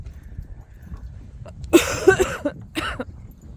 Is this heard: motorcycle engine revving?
no